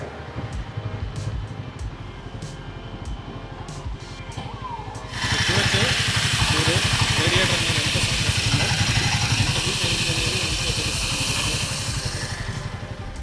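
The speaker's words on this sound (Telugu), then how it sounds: "సో ఇక్కడ చూడొచ్చు రేడియేటర్ సౌండ్ అనేది ఎంత సౌండ్ వస్తుందో" The radiator fan on a hot Royal Enfield Guerrilla 450 motorcycle kicks on partway through, adding a steady loud whooshing hiss over the low, rhythmic idle of the engine.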